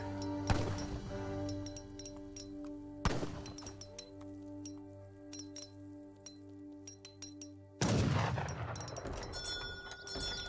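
Gunfire and cannon shots from the Age of Empires 3 strategy game ring out as three loud, sharp bursts among small clinking hits, over a sustained tonal game soundtrack.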